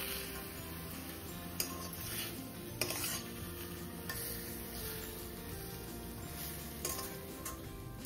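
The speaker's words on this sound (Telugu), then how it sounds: "ఇప్పుడు మనం ఉడకపెట్టుకున్న కందిపప్పు వేద్దాం. ఒకసారి కలుపుకుందాం." Boiled toor dal goes into a pot of cooked drumstick leaves and is stirred, giving soft scraping and occasional clinks of a spoon against the pot over a low, steady sizzle, with no talking.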